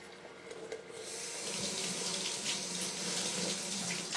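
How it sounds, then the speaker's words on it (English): Water pours from a kettle onto rooibos tea leaves with a close, steady splashing stream that starts after a brief pause and runs continuously to the end. "I'll go ahead and pour the water on the rooibos, just so that I know what I'm doing."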